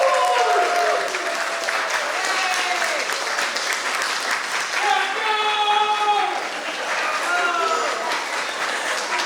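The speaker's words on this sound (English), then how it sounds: "show them that that is what you feel by a round of applause" A round of audience applause for the affirmative team at a youth debate for a mayor's literacy initiative, dense, steady clapping from the crowd with voices and cheers rising over it.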